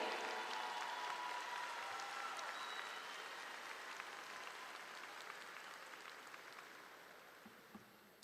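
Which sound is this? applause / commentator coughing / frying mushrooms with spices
applause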